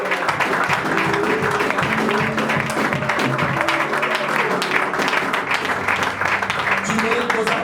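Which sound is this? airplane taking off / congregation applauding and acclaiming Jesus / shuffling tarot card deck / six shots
congregation applauding and acclaiming Jesus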